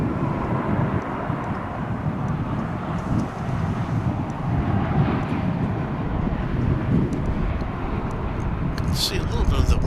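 Airliner in One World livery departing DFW airport, a steady broadband jet roar holding for the whole stretch, with wind buffeting the microphone and people talking over it.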